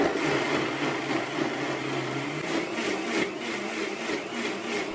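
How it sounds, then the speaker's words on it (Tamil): A mixer grinder grinding soaked green gram with a little water into dosa batter, a steady loud whirring drone that runs unbroken and alone for several seconds. "இப்போது இதில் கொஞ்சமாக தண்ணி ஊற்றி ஒரு இட்லி மாவு பதத்துக்கு நம்ம அரைச்சி எடுத்துக்கலாம்."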